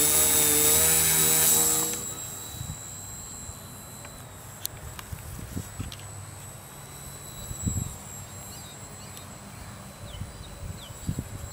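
A DL Gee Bee model airplane with a propeller roars loudly close by for a moment, then drops to a faint, distant high-pitched buzz as it flies off, with scattered outdoor bumps and wind in the background.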